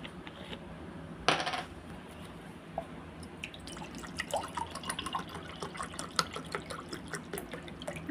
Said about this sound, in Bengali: তো চলো এখন রসনাটা ঢেলে নিই।